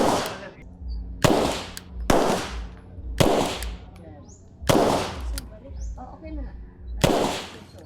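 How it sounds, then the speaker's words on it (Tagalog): Handgun shots fired one at a time on a shooting range, six sharp loud cracks spaced about a second apart, each ringing briefly before the next, with quiet talk between some shots. "Firing."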